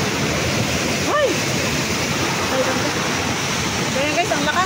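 Floodwater roars through a river in Sta. Rosa, Laguna, a loud, unbroken wash of rushing water with wind buffeting the microphone and brief shouted voices rising over it.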